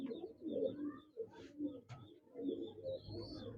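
Pigeon softly cooing at close range in a breeder's loft, a few low, rounded coo phrases repeating across several seconds, with faint chirps in the background.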